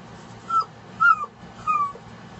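A dog whimpers close by, three separate high whining cries spaced evenly about half a second apart, moderately loud against a quiet room with no talking.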